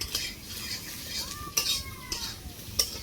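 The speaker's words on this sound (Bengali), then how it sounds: "এই দেখো দিয়ে দিলাম, ভালো করে একটু নেড়ে চেড়ে নেবো।" Fried vegetables are stirred with turmeric in a metal pan, giving scattered scraping clinks of a utensil against the pan over a faint background, with no talk.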